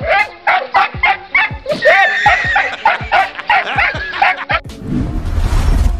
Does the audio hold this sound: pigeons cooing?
no